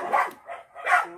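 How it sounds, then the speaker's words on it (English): Neighborhood dogs bark in three loud bursts, each a cluster of rough barks with brief gaps between them, close and clear with no talking. "the dogs in the neighborhood are getting on really bad"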